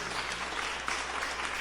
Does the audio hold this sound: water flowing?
no